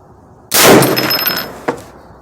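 A 450 Bushmaster rifle fires a single Hornady Whitetail 245gr soft-point round at a range target: one sharp, loud report that rings out and decays, followed by a faint echo.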